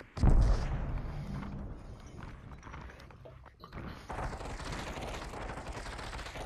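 Gunfire in the VR shooter Population One, a loud burst at the start followed by continuous busy rapid shots and thuds through the whole stretch, dense and close, with no clear talk.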